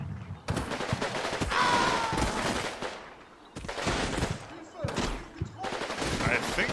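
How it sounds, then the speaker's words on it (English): Captured German MG42 machine gun in the Combat Mission war game firing loud, sustained bursts, with brief pauses between volleys and a faint voice underneath. "we have a captured German MG42"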